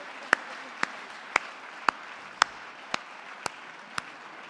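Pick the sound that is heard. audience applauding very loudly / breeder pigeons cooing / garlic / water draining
audience applauding very loudly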